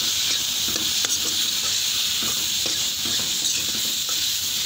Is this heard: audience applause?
no